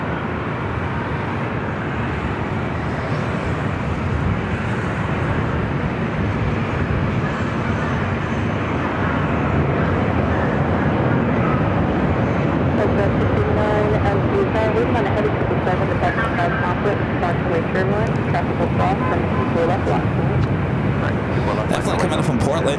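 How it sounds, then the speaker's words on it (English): A Delta Airlines Airbus A380 touches down on runway 24 right at LAX, its heavy, sustained jet rumble building slightly toward the end, mixed with general airport traffic noise and some talking underneath. "Delta A380 about to touch down at 24 right."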